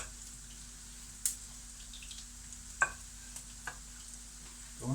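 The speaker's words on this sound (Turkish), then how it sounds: "İyice kızardı köfteleri." Turkish-style meatballs (köfte) frying in a pan, giving a low, steady sizzle with a few soft clinks and stirring scrapes; fairly quiet, no talking.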